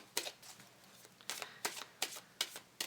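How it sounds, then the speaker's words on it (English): A deck of tarot or oracle cards is shuffled by hand in a quiet room, giving a series of crisp, riffling bursts at an uneven rhythm, close and fairly soft, with no talking. "We're going to go ahead and shuffle this deck a little bit."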